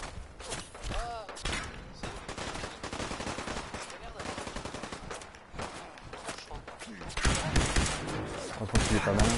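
Gunfire rattles in the video game Fallout 4, with fast bursts and single shots repeating through the stretch at moderate volume, mixed with game sounds and a voice talking over it.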